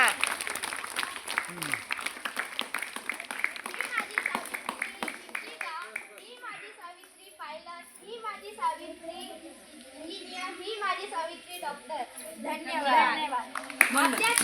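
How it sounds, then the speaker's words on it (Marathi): Audience of children clapping at a ceremony, a rapid patter of many hands in the first seconds that fades under lively children's voices chattering and calling out. "टाळ्या वाजवा टाळ्या वाजवा जोराने"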